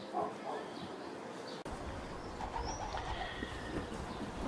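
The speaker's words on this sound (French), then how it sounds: "Avec nos amis les pigeons." Pigeons coo softly in the tower of Saint-Merry church, a few low, rounded calls set against a steady echoing background hum, with no talk over them.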